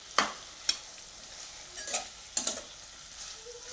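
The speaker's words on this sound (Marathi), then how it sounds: "हे चांगलं आपण 2 मिनिट परतून घ्यायचं आहे." Vegetables being sautéed in a pan for paneer pulao: a soft, even sizzle punctuated by a few crisp spoon taps and scrapes, close and fairly quiet.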